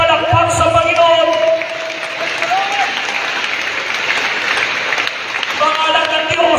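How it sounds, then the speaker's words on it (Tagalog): A church audience breaks into loud, full applause for the Lord during a sermon, sustained crowd clapping with some cheering, beginning under a tonal voice and music. "Sige yung palakpak sa Panginoon."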